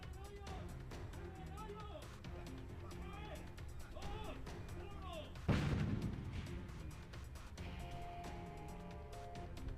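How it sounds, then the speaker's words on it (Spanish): People talk over background noise, then a single deep, heavy blast from the controlled detonation of a house booms out partway through and rumbles away before the talking resumes. "ya escucharon en este momento, se dio la detonación, se trata de una vivienda"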